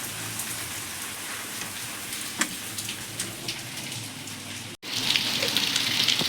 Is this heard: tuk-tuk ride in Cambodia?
no